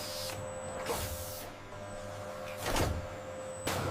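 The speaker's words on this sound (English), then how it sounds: "Enter the Delta Robots, the fastest pickers on the planet. Vacuum suction cups grab multiple packs with gentle precision." Delta robots with vacuum suction cups pick instant noodle packets on a factory line, giving repeated whooshing, hissing mechanical strokes at irregular intervals over a steady machine hum and faint tones.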